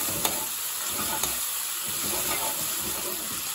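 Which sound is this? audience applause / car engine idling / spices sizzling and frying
spices sizzling and frying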